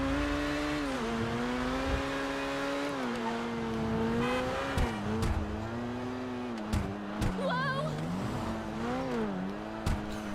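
Supercar with slow handling in GTA 5 Online, engine whining as its revs rise and fall through gear changes, with scattered tire squeals and knocks, the engine note steady and close throughout.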